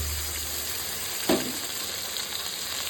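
Spice paste with tomato, green chili, salt and turmeric fries in a pan for a puti fish curry, a steady low hiss with a single brief clatter of stirring, nobody speaking.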